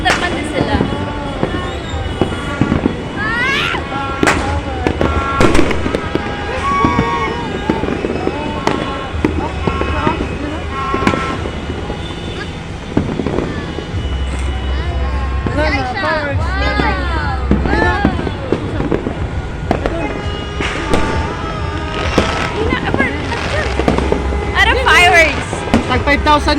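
Dense crackling bursts and whistling rockets fill the air almost continuously in Cotabato City, Philippines, loud and busy, with people talking and shouting underneath.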